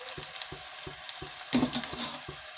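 Onions fry and sizzle in a pan of masala for coconut rice, a bright continuous hiss broken by regular scraping stirs of a spoon, close and fairly quiet.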